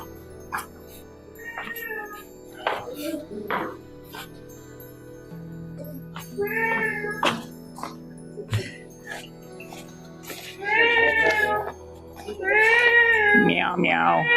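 A cat meows several times on a street in an ancient city in China's heartland, with drawn-out, wavering calls growing louder toward the end, while a voice mimics the meowing and there is light background noise.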